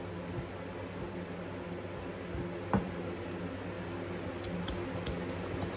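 A wet pork chop dressing mixture being stirred in a bowl, soft squishing and muffled thuds at a close distance, fairly faint, with one slightly louder knock partway through.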